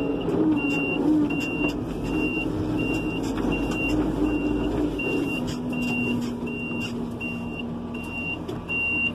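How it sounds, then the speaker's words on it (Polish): Turn signal ticking at a steady, even rhythm inside the cab of a 2004 Renault Ares 656 truck, faint and regular over the low hum of the running engine. "Rzuciłem kierunkowskaz."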